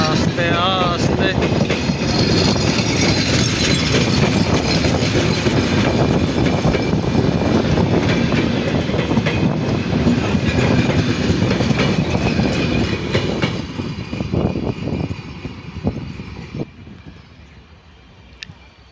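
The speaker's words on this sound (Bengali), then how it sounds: "বিশাল লম্বা ট্রেনটি বাংলাদেশি ট্রেন। জয়দেবপুর থেকে ছেড়ে যাচ্ছে আস্তে আস্তে।" A long Bangladeshi passenger train pulls slowly out of Joydebpur station, its steady rumble and clatter of wagons loud and continuous for most of the stretch before easing off and fading near the end.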